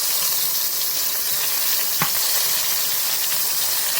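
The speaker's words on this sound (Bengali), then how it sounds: "অল্প তেলেই বেগুন ভাজা হয়ে যাবে বন্ধুরা" Brinjal (eggplant) pieces frying in a little oil, a dense, steady hiss throughout with one brief knock partway through.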